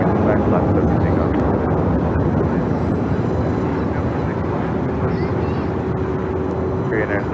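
A Korean Air jet takes off, a loud continuous engine roar filling the whole stretch without a break, with a faint radio voice in the background.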